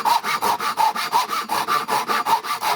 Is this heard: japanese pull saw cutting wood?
yes